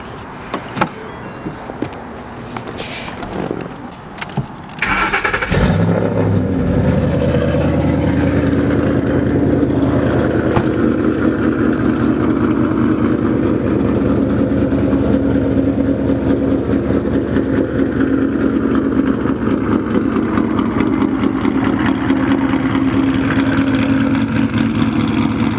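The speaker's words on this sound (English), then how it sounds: "Turn on the car so y'all get the full effect." A car engine cranks and catches around five seconds in, then settles into a steady, loud idle hum that continues to the end, preceded by quieter interior sounds.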